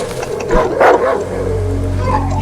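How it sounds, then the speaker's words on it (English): Hostile dogs in the video game Darkwood let out a brief bark and growl amid game noise, followed by a steady low rumble. "So there's dogs in this burnt house, which we're aware of."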